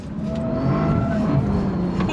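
A Bentley Continental GT Speed pushing through a corner, tyres scrubbing under understeer as the engine drones steadily, with a strained tonal squeal running over the loud, continuous road and engine noise.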